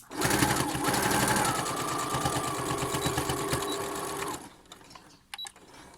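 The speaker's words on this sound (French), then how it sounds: "Toujours mon point arrière pour maintenir la couture, éviter que ça se défasse." A sewing machine runs a steady, loud, rapid stitch while backstitching a seam on a drawstring fabric mask, then stops with a few brief clicks and handling noises.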